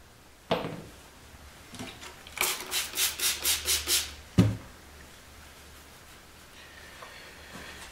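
A cloth buffs the finish of an electric guitar body during wet sanding and polishing: a quick run of about seven brisk rubbing strokes, framed by a couple of sharp knocks and quiet pauses.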